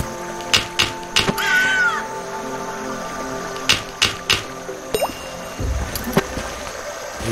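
Water drips in the point-and-click adventure game The Night of the Rabbit, a series of sharp, close plinks in an uneven rhythm over a soft game ambience, with a brief chirpy tone early on.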